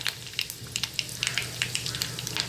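Curry leaves crackle in hot oil along with mustard seeds in a Marathi-style tempering for a dry brinjal and potato stir-fry, a steady close sizzle with scattered sharp pops throughout, no voices.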